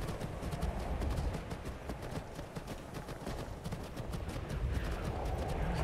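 Hooves of a horse ridden downhill in Skyrim, a quick steady clip-clop of hoofbeats running throughout over game ambience.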